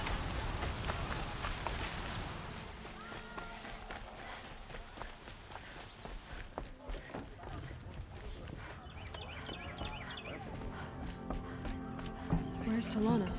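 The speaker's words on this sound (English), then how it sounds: "Raining like it's trying to wash everything away." Steady rain in the video game Horizon Zero Dawn pours as a continuous broadband hiss of drops on surfaces, fairly even throughout, with faint softer game sounds underneath.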